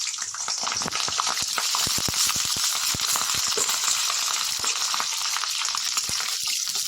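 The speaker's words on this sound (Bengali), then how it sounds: "ফুলকপিগুলো এবার ভেজে নেবো ভালো করে।" Cauliflower florets fry in hot mustard oil in a wok, making a loud, continuous hiss with sharp crackles and pops throughout, up close and without any voices.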